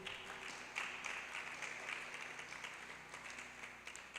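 Audience clapping at a leaders' conference, a faint, steady patter of many hands heard from a distance across the room, continuous and without voices.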